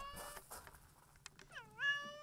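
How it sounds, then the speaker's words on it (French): A cat meowing aboard a sea rescue boat, a couple of short mews followed by one longer, rising drawn-out meow up close, over faint background noise. "Il y a un chat."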